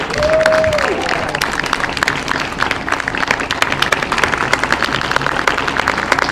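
A high school orchestra concert audience claps for the Philharmonic Orchestra, dense sustained applause filling the room from start to finish, with a brief whistle at the outset.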